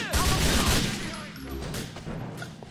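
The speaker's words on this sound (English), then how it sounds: "Am I getting shot in the back?" Gunfire in Grand Theft Auto 4 during a money heist shootout, a rapid burst of shots crackling loudly at the start, then fading into a busy mix of game noise with a voice briefly heard.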